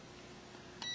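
A ByteBrothers CTX200 pocket RJ45/coax cable tester switches on with one short, high electronic beep at the very end, after a quiet stretch of faint hiss.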